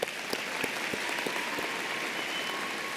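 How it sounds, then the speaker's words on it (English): A graduation ceremony crowd applauds steadily for about three seconds, a dense, even wash of clapping from many hands with a few sharper individual claps standing out near the front. "Please give them a round of applause"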